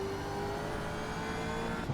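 A Gen 3 V8 Supercar engine in the iRacing sim racing game drones steadily at high revs around Twin Ring Motegi, a continuous loud roar with no talk over it.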